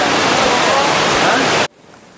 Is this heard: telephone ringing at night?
no